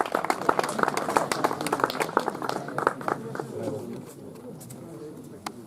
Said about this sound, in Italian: Un applauso a Andrea Colombano.